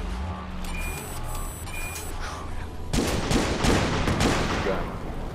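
Gunfire aimed at an armored truck in a video game match, dense overlapping shots and bursts building loud from midway, over a running vehicle rumble with some beeping tones early on.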